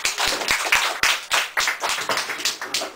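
An audience at a talk on running a rural coffee shop claps briefly, a short run of distinct, fairly close hand claps in a loose, uneven rhythm that thins out after a few seconds.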